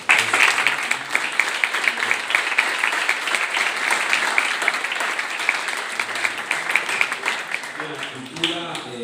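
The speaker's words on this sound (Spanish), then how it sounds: "al licenciado Feliciano Calzada, para quien también pido un fuerte aplauso" A crowd applauds steadily for several seconds, dense clapping that fades slightly toward the end as a voice begins to speak.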